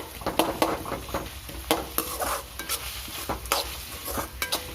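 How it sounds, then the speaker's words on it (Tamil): Tomatoes sizzle quietly in a pan while a utensil stirs and scrapes in irregular taps and rubs, with no talking. "தக்காளி நல்லா மசிட வைக்கும் நல்லா வதக்கி விடுங்க"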